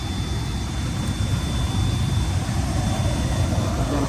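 An electric heater's blower fan runs steadily, a loud continuous broadband whoosh with a low rumble and no change in level throughout.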